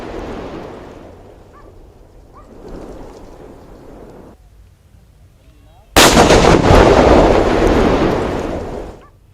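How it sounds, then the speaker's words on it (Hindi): A bundle of Cordex detonating wire is destroyed by explosion. Quieter rumbling comes first, then a sudden loud blast breaks out and roars on for several seconds before fading. "कोडेक्स वायर को विस्फोट कर नष्ट कर दिया गया है"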